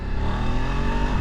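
A Voge D900SX motorcycle engine pulls hard on a twisty country road, a steady loud growl with rising rumble and wind rush throughout.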